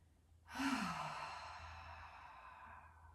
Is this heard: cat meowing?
no